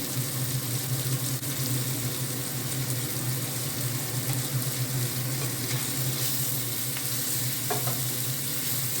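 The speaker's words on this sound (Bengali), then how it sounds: "সবজিগুলো বেশ ভালো করে ভাজা ভাজা হয়ে উঠবে" Mixed vegetables fry in a pan for an oats dish, making a steady, close, continuous sizzle with occasional stirring scrapes and no talking.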